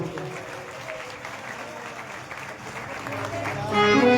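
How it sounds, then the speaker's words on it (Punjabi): Steady applause from the audience at a Guru Purnima devotional jagran in Jammu, a sustained bed of clapping with crowd murmur that swells near the end. "ਆਪਾਂ ਆਪਣੇ ਗੁਰੂ ਮਹਾਰਾਜ ਦੇ ਨਾਂ ਤੋਂ ਤਾੜੀ ਲਗਾ ਦਿਓ"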